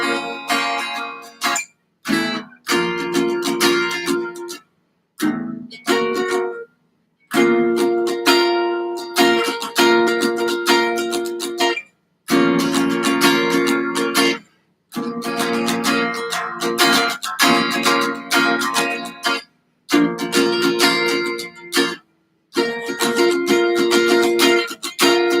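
An acoustic-style guitar strums chords in rhythmic bursts with short silent gaps between phrases, played close and fairly loud with no talking.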